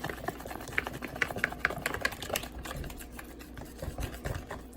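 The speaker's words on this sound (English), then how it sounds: "we're going to whisk this all together until it's mixed nicely" Pancake batter whisked in a bowl, a quick rhythmic run of light clicks and taps from the whisk against the bowl, steady and close, continuing throughout at a moderate level.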